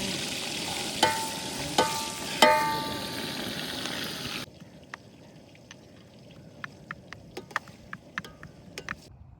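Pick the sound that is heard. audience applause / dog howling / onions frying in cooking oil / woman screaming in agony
onions frying in cooking oil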